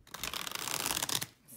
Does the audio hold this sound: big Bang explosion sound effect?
no